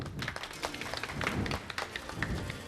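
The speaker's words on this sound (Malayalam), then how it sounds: "ഒരു പ്രാവശ്യം കൂടെ എല്ലാവരും ചേർന്ന് കൈയടി കൊടുക്കാം" Audience clapping at a Malayalam Christian devotional skit performed by a Sharjah church fellowship, a steady wash of many hands clapping together through the whole moment, fairly close and dense.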